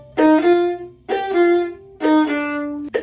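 A viola plays three sustained notes from a Wohlfahrt etude, each a quick short note leading into a longer held one, with a brief clipped note at the end.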